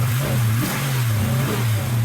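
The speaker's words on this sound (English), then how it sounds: "These stroker motors are very punchy, they love to rev out." A 383 stroker engine in a 1956 Chevrolet 3100 pickup revs steadily with rhythmic surges, a deep throbbing rumble close by that rises and falls a few times.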